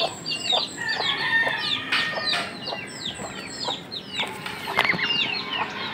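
Chickens and small chicks in a little backyard poultry coop cluck and cheep continuously, with a rooster-like call and brief wing flapping among dense, overlapping bird calls at close range.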